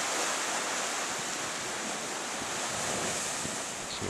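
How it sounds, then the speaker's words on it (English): Strong ocean waves splash against a rock structure protecting a beach, a dense continuous roar of surf with wind rushing across the microphone and no voices. "it's a beach which is protected by this rock structure here from the waves that are pretty strong."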